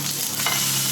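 A burger patty for a prosperity burger sizzles hard in a hot pan just after the flip, a loud, close, continuous fry hiss over one brief second.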